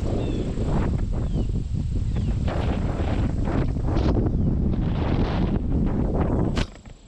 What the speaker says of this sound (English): It's like the wind is back with a vengeance.